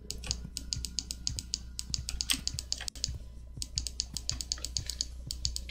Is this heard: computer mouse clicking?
yes